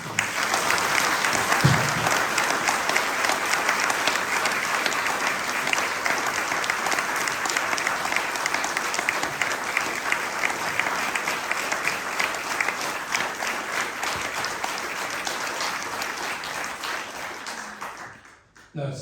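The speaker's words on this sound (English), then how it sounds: "let's give a round of applause" Audience applause following a talk at a society lecture on ocean rowing, a long, dense, steady wash of many hands clapping that holds for most of the stretch before fading out near the end.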